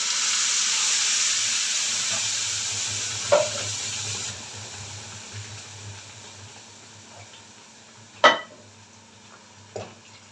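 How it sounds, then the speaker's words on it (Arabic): Chopped tomatoes going into a hot pan for an okra and oxtail tagine, with a steady sizzle of frying throughout and a few sharp clinks of a spoon against the pan. "نبدا ننزل عليها بالطماطم بتاعتنا."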